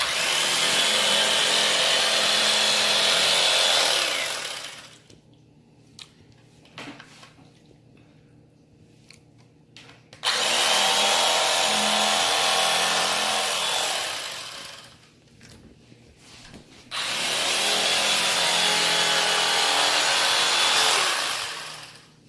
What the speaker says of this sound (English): So we'll just trim this fat off.